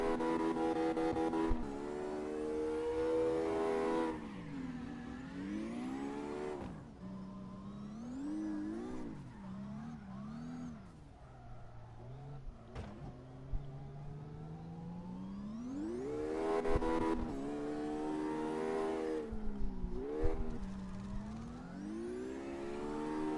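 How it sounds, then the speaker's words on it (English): A drifting car's engine in CarX Drift Racing revs continuously, rising and falling in pitch through repeated accelerations and lifts across the stretch, loud and steady with no talk. "Alright, time to continue on drifting."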